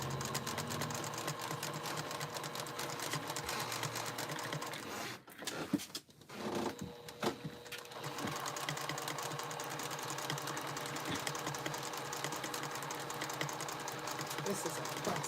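A sewing machine doing free motion quilting with olive green thread, a steady close whirring hum that runs throughout, pausing briefly partway before resuming.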